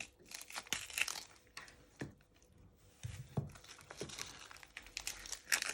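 Papery onion skin crinkles and tears in close, quiet bursts as two outer layers are peeled away by hand, with short crackles and pauses between pulls.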